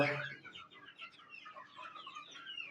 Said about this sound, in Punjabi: ਦੇਸੀ ਮੁਰਗਾ